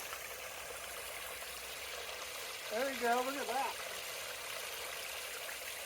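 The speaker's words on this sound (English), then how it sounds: "now it's dramatically changing the flow of the water. Now you got a waterfall." Stream water spills over a small waterfall after leaves blocking it were pulled out, giving a steady, soft trickling rush throughout; someone speaks briefly over it midway.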